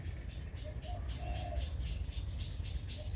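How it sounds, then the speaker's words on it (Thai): Soft, repeated cooing of a bird, likely a dove or pigeon, rises faintly in a few short phrases against steady low background noise. "เสียงนกกุกกรูกุกกรู มันธรรมชาติที่แท้จริงจ้ะ"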